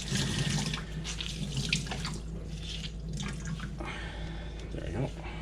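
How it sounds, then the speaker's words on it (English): Tap water running into a sink as a towel is soaked for covering bread dough, a steady close splashing hiss throughout with brief speech-like sounds mixed in. "we're just gonna take a damp towel, just gonna soak this"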